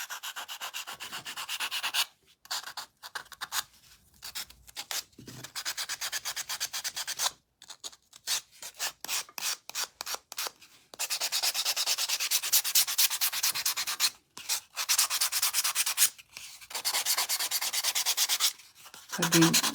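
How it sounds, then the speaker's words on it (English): Sandpaper rubs briskly along the edges of small wooden craft angels in repeated close, scratchy strokes, coming in long runs broken by short pauses. "now I'm just going to again sand all these edges"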